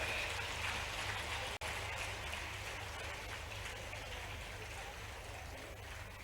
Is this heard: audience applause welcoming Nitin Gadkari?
yes